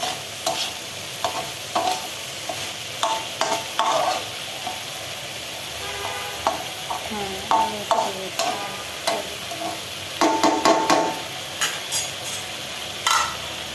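Potato bhaji fries in a pan, with a steady sizzle and repeated scraping, stirring strokes of a spatula against the pan, close and alone, with no voices.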